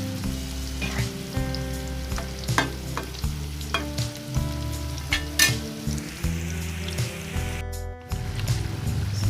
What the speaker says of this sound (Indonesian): Tempe dan ikan terinya digoreng dulu ya. Goreng sampai tempenya masak.